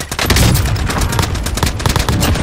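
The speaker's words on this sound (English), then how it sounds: "Allied precision airstrike." An allied precision airstrike in the video game Call of Duty: Warzone, a brief loud barrage of rapid explosions and gunfire-like blasts with no talk.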